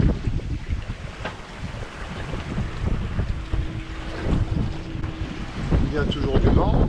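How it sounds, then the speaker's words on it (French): Steady wind rushes past a sailboat under way in a good moderate breeze, with water swishing along the hull, continuous and fairly close, while voices talk intermittently over it. "Il y a toujours du vent, un bon petit vent"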